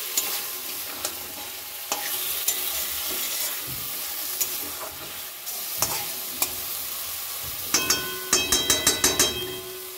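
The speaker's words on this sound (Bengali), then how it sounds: "মশলাটার সঙ্গে লটিয়া মাছটা ভালো করে কষিয়ে নিচ্ছে।" Lotia fish sautéed with spice paste in a pan, under a continuous sizzle broken by repeated spatula knocks and scrapes, ending in a quick run of tapping strikes against the pan, with no one talking.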